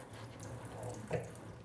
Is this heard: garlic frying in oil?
no